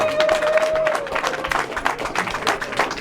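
Applause from an audience at an anniversary reception in the House of Commons, a steady close patter of many hands clapping that holds for the whole moment, with no talk over it.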